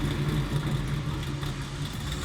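A 1969 Chevrolet Camaro SS restomod with a 632ci engine idles with a deep, steady, loud rumble that holds even throughout, no voices over it.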